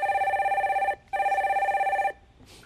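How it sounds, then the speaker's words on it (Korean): A telephone rings twice in quick succession, a steady electronic bell tone with a brief gap between bursts, as a call-in line connects on a Korean financial TV program; a faint soft sound follows. "첫 번째 전화 연결해 주세요"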